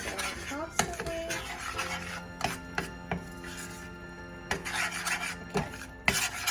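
Spoon scraping and stirring flour into melted butter for a roux in a pot, making gourmet mac and cheese in a home kitchen: close, uneven rasping strokes with sharp clinks against the pan, with a voice speaking at times.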